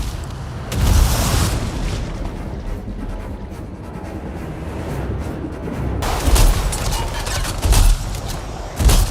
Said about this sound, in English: We're getting some fire from up ahead.